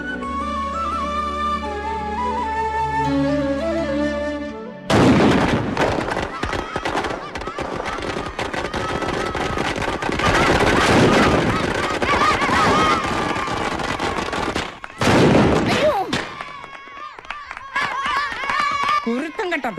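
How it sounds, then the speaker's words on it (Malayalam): Firecrackers burst in a long, dense, loud rattling string near a temple path, with a sharp break before a second volley, while people shout and talk over the crackling. "കുരുത്തം കേട്ട പിള്ളേര് കുണ്ടിപ്പുറയിലിട്ടാന്നോടാ പടക്കം പൊട്ടിക്കുന്നേ"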